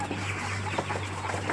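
Several chicks cluck softly and continuously close by, over a low constant hum.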